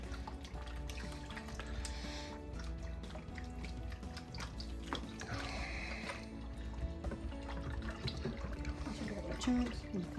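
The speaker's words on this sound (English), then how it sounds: "I'm gonna rinse my spoon off." A spoon rinsed under running water in a home kitchen, a soft continuous trickle and splash that is faint and low throughout, with occasional clinks and some speech over it.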